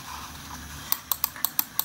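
HP Comfort Mouse X1500 buttons with a plastic coating click six times in quick succession, sharp and close, each click solid and distinct in a quiet room.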